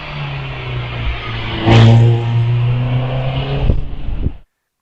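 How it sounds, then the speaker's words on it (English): A Caterham 7 Road Sport race car powers along a hillclimb course at Wiscombe Park, its engine droning loudly with a sharp surge as it accelerates, then holding a steady, rasping note before gear changes and a sudden cut-off. "Nash with the Caterham Road Sport out on the hill"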